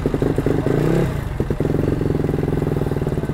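Yamaha NMAX motorcycle with a rebuilt 221cc engine starting with one press, a brief starter whir and clatter that catches into a steady, close, pulsing idle.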